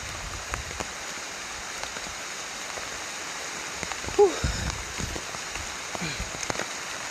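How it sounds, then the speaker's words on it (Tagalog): Heavy rain pours steadily on a surface outdoors, a dense continuous hiss with scattered louder drops and a brief sharp knock partway through, no voices over it. "Sobrang ulan talaga."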